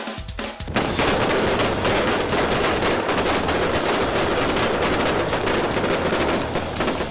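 Prop guns blazing during a staged shootout, a dense, continuous burst of loud rapid gunfire that begins abruptly and runs without pause.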